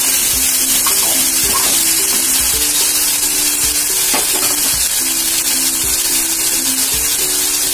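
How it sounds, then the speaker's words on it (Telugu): Chicken and poha ingredients frying in a pan, a loud dense sizzle running continuously with faint scraping and bubbling underneath, no voices. "వీటిని కుక్ అయ్యేదాకా ఫ్రై చేసుకోవాలి."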